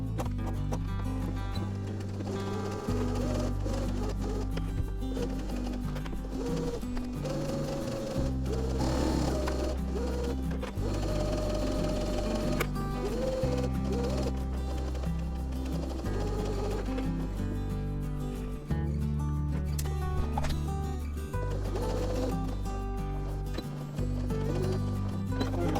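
A sewing machine stitches ribbon onto a fabric neck pillow in steady, fast mechanical runs, with brief pauses and restarts between bursts of stitching, close and loud with no talking.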